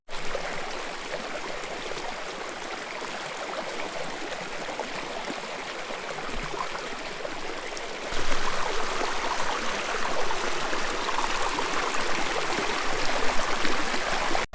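Water rushing steadily through a gold sluice box on a mountain stream, a constant close, full gurgling roar that grows slightly louder and brighter partway through.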